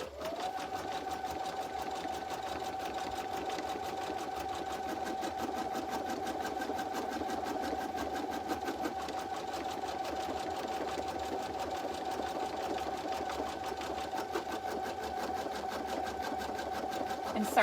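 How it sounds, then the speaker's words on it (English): An embroidery machine sews reinforcing stitching on an in-the-hoop notebook cover, its steady motor hum and rapid needle chatter running without a break, close and even for the whole stretch. "So this is our reinforcing stitching."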